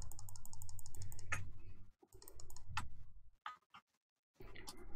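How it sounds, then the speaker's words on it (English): Rapid clicking and tapping on a computer mouse and keyboard, close and fairly loud, in quick runs broken by short silent gaps; no talking. "Frantically clicking."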